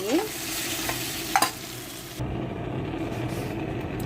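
Bitter gourd slices frying in a pan for a spicy stir-fry, stirred with a few scraping clatters early on, then a steady low sizzle continuing alone.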